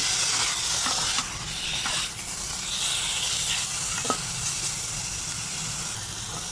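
Spicy wild boar stir-frying in its own rendered fat, a steady broadband sizzle and hiss with faint clinks of stirring, close and continuous throughout.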